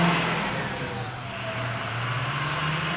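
A car engine revs at a dealership next door, a steady mid-pitched drone that rises and holds, fairly close and continuous for the whole stretch with no talking.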